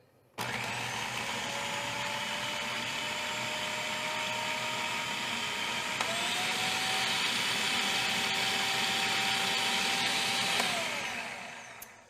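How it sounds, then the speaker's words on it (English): A Cuisinart FP-8SV Elemental food processor runs with a steady, loud motor whine that shifts pitch partway through, then winds down at the end, with no talking. "we're going to turn the machine back on until this is completely incorporated"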